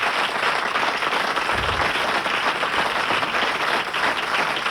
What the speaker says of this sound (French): J'aimerais qu'on l'applaudisse encore une fois